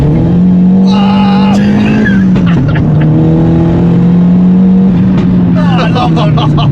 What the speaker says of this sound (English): I think that second gear pull is just great.